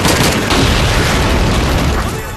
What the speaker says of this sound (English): use a smoke grenade as cover and plant your sticky bomb